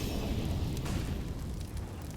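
A molotov fire bursts in a CS:GO match on Inferno, a continuous roaring, crackling whoosh that stays loud and steady for about two seconds.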